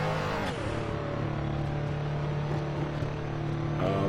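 A modified RUF CTR Yellowbird in Assetto Corsa, turbocharged engine held at steady high revs with a continuous droning roar and a slight dip and lift in tone, loud and unbroken, no talk.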